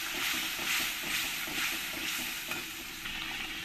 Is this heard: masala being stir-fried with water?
yes